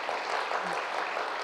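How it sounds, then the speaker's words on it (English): Clapping from an audience at a spiritual talk, a brief even patter of many hands at moderate level with no voices over it. "Now clap for yourselves"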